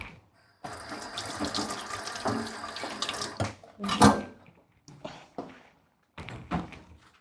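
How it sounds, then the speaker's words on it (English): Hands washed under a running kitchen tap, with water splashing in bursts, a few thuds and knocks, and pauses as the flow stops and starts. "Let me wash my hand."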